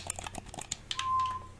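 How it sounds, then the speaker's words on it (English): The buttons on a third-party Nintendo Switch Pro controller are pressed in a quick, irregular run of crisp, light plastic clicks, heard close up in a quiet room. "all of the buttons feel nice, like you can hear them clicking."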